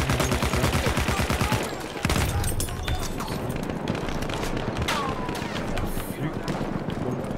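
Rapid gunfire in a Battlefield beta game session: dense bursts of shots and explosions crackle continuously, with someone talking excitedly over the battle noise.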